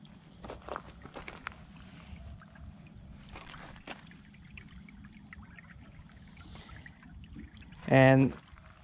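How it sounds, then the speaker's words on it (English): Water runs through a newly installed culvert with a quiet trickle and splash, broken by scattered knocks and footstep-like thuds, then a short loud voice-like burst near the end. "So you can see the water is flowing good now."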